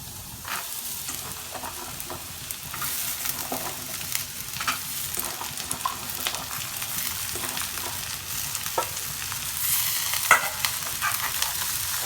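Onions browning in a pan with oil, a continuous crackling sizzle broken by frequent scraping stirs and clinks, fairly close and steady for the whole stretch, no talking.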